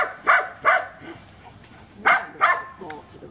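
Several dogs barking in short bursts, two quick barks, a pause, then two more, fairly close, with softer whimpering sounds between.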